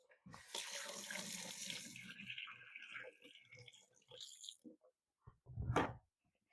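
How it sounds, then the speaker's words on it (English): Kitchen sink tap runs as hands are washed under it, a steady close gush of water that fades out, with a faint voice and a brief splash near the end. "Let me wash my hands."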